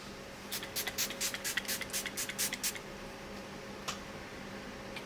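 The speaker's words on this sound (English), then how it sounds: "Gonna spray down my face using the Smashbox Photo Finish Primer Water." A spray bottle of Smashbox Photo Finish Primer Water misted onto the face in a quick run of about eight close, crisp hissing pumps, followed by one more short spritz after a pause, over a quiet room hum.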